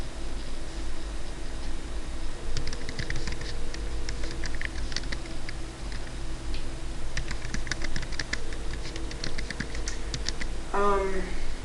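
Fingers type on a computer keyboard in irregular bursts of soft, close clicks over a steady low hum, with a quick run of keystrokes near the end.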